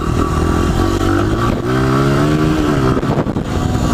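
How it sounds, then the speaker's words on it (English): A motorcycle engine revs steadily before a gear shift, its pitch climbing as the RPMs rise, loud and close with no voices. "Hear how the RPMs start to go up?"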